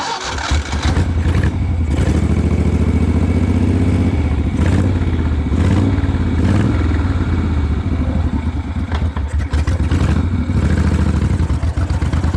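Moto Guzzi V-twin motorcycle over 50 years old pulls away gently on a street, its steady low engine rumble loud and close throughout with slight rises in revs.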